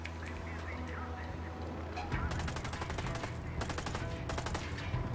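Rapid automatic gunfire in the video game Ghost Recon Wildlands, crackling in dense bursts that start about two seconds in and continue with short pauses, loud and close over a low background rumble.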